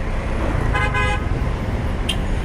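Heavy road traffic rumbles close by while car horns toot, one held honk in the middle and a short beep near the end, over a constant engine drone.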